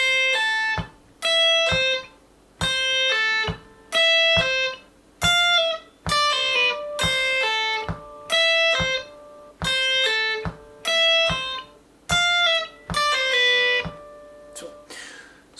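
An electric guitar plays a riff, short bright picked phrases repeating in bursts with brief gaps between them, close and clear, with no voice.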